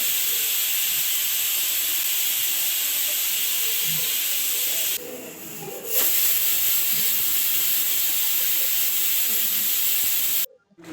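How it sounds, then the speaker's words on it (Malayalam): Loud, continuous steam hiss from a pressure cooker whistling while cooking beef curry, steady throughout with a brief dip in the middle before it resumes and stops near the end. "കുക്കർ അടച്ച് വെച്ച് ഒരു ഒമ്പത് വിസിൽ വരുന്നത് വരെ വെയിറ്റ് ചെയ്യാം"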